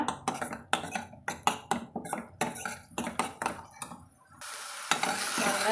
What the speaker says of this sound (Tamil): சேர்த்துட்டு நம்ம இதை நல்லா கலந்து விட்டுக்கலாங்க